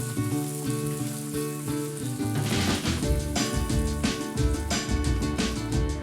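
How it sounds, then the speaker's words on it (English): Pork chops sizzle on a hot grill, a loud dense crackle and spit that runs on without a break, close up and with no talking. "we're gonna grill the chops for about 6 to 7 minutes per side"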